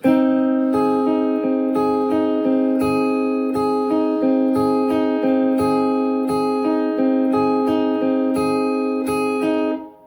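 Guitar picks a steady, repeating arpeggio, single notes plucked in an even rhythm over a sustained ringing chord, clear and close, with no talking.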